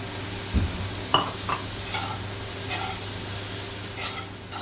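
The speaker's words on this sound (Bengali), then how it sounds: "এই সয়াবিনটাও এর সঙ্গে একটু ভেজে নেব" Soybean chunks sizzle steadily in a hot pan, with a few short clinks and scrapes of stirring breaking through the constant hiss.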